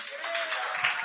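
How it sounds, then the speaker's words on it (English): Audience applause for a guest speaker at a tech talk, a steady spread of hand claps filling the room at moderate level for about a second, with a faint voice tone running underneath. "Let's give her another hand clap."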